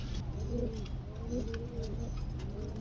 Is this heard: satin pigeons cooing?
yes